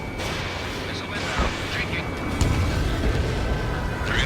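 An incoming missile explosion in Ace Combat 7 during a tunnel takeoff: heavy rumbling booms and blasts roll over a dense wash of jet and combat noise, with a radio voice talking over the action.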